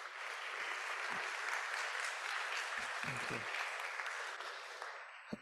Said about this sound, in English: A round of applause for Tenny Gross,